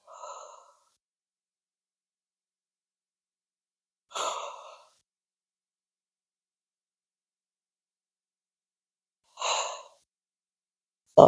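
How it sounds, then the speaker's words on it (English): Exercise breathing, with slow audible breaths out while lifting and breaths in while lowering, three separate airy exhalations spaced several seconds apart amid silence. "you exert, breathe out when you are lifting up, and then breathe in when you go down"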